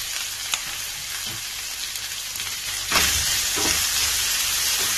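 Round-sliced onions sautéing in a pan for chicken pepper fry, a steady close sizzle and hiss that swells louder partway through as the pan is stirred.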